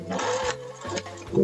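A sewing machine stitching a seam on a wrap dress runs in short bursts, its rapid mechanical hum starting and stopping a few times up close.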